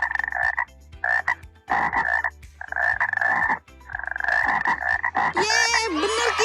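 A frog croaks close by in loud, repeated bursts of rough pulsing calls separated by short gaps, the last phrase breaking into higher warbling tones.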